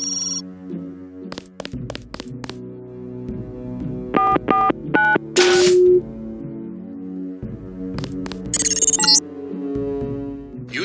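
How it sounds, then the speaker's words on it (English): Code being punched into a keypad in Deus Ex, a string of short electronic beeps and tones over a low musical background, some in quick bursts of three, with a brighter chime near the end. "type the code into the keypad"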